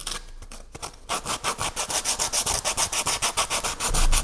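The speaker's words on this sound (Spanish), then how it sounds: "Coger un poquito de lija." Sandpaper rubs back and forth across a 3D-printed project enclosure in quick, regular strokes, a loud close rasping rhythm of about three strokes per second after a brief hesitant start.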